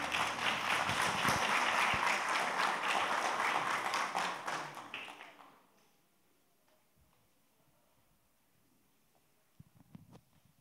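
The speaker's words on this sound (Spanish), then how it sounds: "Por favor, un aplauso para nuestras invitadas." Audience at a literary conference applauds the guests, a lively burst of clapping that fades out after about five seconds into near silence with a few faint taps.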